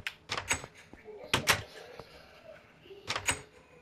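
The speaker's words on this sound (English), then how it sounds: "No, I'll just listen to the doors." Wooden doors clacking open and shut in a Minecraft Hello Neighbor game, sharp paired knocks repeated three times, quiet and close with little else around.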